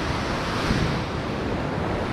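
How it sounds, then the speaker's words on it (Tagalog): Ocean waves roll and crash on a rocky shore, a dense continuous roar of surf mixed with wind buffeting the microphone, loud and close, with no voices. "yung mga alon na nagtatawanan, yung mga alon ang naglalakihan"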